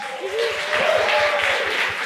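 A small studio audience claps at a live podcast taping in Brazil, brief lively applause under a voice.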